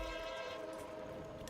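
An Alco diesel locomotive passes southbound on the North Creek line, its loud horn sustained and steady over a low engine rumble, with faint rail noise beneath.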